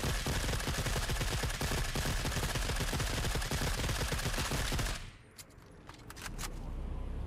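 An MG34 machine gun in The Forever Winter fires a long, loud, unbroken automatic burst of close, rapid shots, then cuts off into a quieter tail with a few scattered distant cracks.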